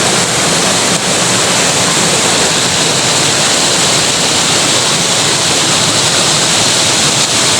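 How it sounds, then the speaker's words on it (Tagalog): A deep river in Barangay Gabas, Buhi, Albay, Bicol rushes loudly and steadily, a dense unbroken roar of flowing water close by with no talk over it. "Ayan ang ilog dito."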